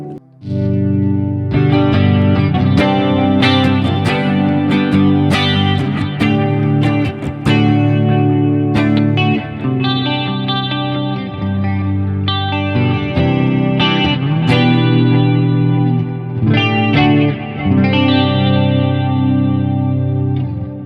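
An electric guitar played through effects pedals swells in and out, with chorus, distortion and echo layering sustained, shimmering chords and notes that rise and fade continuously for about twenty seconds, with no talking.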